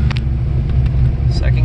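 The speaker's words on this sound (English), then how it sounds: "Letting the clutch out. First gear." An engine-swapped car pulls away in first gear with the clutch let out, giving a steady, low, close rumble that holds even over a brief moment.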